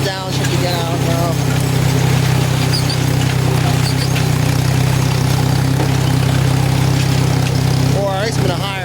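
Farm machine engine cruising in a higher gear during a bean harvest, a loud, steady low drone running throughout with a few faint tonal chirps near the start and end.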